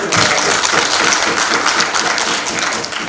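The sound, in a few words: audience applause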